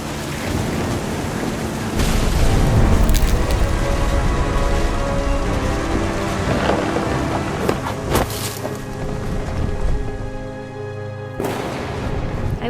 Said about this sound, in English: The thunder sounded much too close and full of angry power.